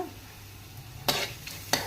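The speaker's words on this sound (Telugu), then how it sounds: "4 స్పూన్లు నూనె వేసుకొని ఎండుమిరగాయలు, కరివేపాకు, తాలింపులు వేసుకొని కలుపుకున్న తర్వాత" Dried red chillies, curry leaves and garlic tempering in hot oil for rasam give a low steady sizzle, broken by two sharp bursts as more is stirred in or added.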